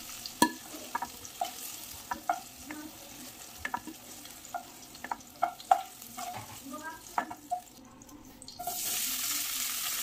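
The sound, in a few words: cauliflower frying in a pan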